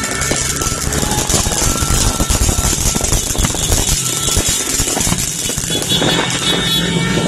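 Loud, continuous engine roar of motorcycles passing close by during New Year's celebrations, a dense rumble with no break in the noise.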